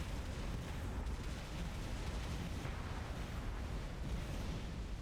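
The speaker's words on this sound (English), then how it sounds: "look at all these torpedoes and stuff getting shot down" Torpedoes being shot down in a Project Stardust space battle: a constant dense rumble of distant blasts and popping fire, steady and fairly faint with no talk.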